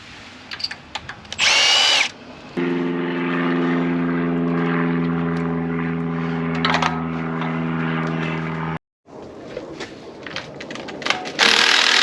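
Power tool loosening the front cam bolt on an LS V8 engine during a build, a loud steady whine with a strong low hum running about six seconds between shorter bursts of whirring and clatter.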